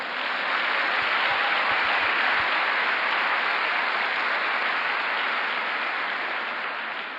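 A church congregation at a Sunday service claps together in dense, steady applause that fills the room, loud and sustained from start to finish with no voices over it.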